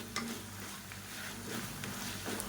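Fresh mint leaves are lightly stirred and sautéed in a pan for a tomato mint chutney, a soft steady sizzle close by with faint scraping strokes, no talk.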